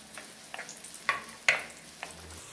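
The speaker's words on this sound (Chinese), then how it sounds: "锅内留底油，下香菇片翻炒" Shiitake mushroom slices being stir-fried in a little oil in a wok give off a faint sizzle with a few sharp scraping stirs and pops.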